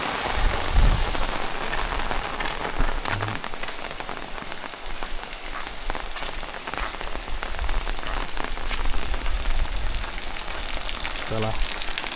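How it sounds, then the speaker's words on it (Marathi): Sudden heavy rain falls on a Konkan village near Ratnagiri after morning sun, a steady, close downpour hiss with a few dull low thumps scattered through it. "सकाळी ऊन पडला होता आणि त्याच्यानंतर अचानक पावसाची एंट्री. अशी तशी नाही जोरदार एंट्री"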